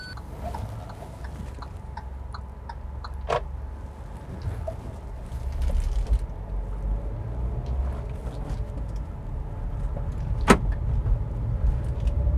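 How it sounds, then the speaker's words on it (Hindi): A new car's door locks engage automatically once it reaches about 20 km/h, giving sharp mechanical clunks over a steady low hum of road and engine noise inside the cabin. "So when you move a speed of about 20 kilometers per hour, ये ऑटोमेटिकली लॉक हो जाती है। वो लॉकिंग का साउंड है।"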